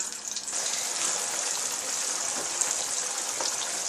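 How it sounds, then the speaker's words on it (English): Water pours steadily into a pot of attieke during cooking, a continuous close, fairly loud splashing gush that runs without a break. "As you can see, I add the water."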